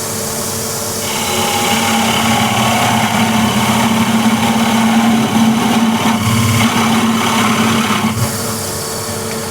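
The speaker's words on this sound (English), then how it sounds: "so here I have the 10 mil drill bit," A power drill with a 10 mm bit bores steadily into an old wooden bowl, a continuous high motor whine with a lower hum running loud and close for about nine seconds, easing slightly near the end.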